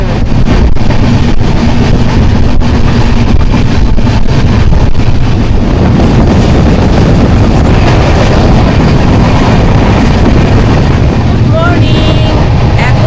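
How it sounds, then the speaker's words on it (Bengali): A train runs fast on the rails at night nearing Howrah, a loud, dense, steady rumble and rattle heard from inside, continuous across the whole stretch with no clear talk. "আমাদের ট্রেনটা দ্রুত গতিতে ছুটে চলেছে"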